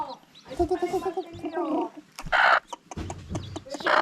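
Chickens cluck and a rooster-like call rises as the birds peck feed from a hand, with bursts of scratching and pecking noise while people talk and laugh close by.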